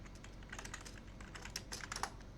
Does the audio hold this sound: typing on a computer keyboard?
yes